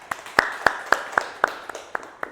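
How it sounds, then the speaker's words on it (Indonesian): A classroom group gives a short round of applause for the first presenting group in a microteaching session. About nine distinct, evenly spaced claps sound close and crisp. "Tepuk tangan untuk kelompok 1."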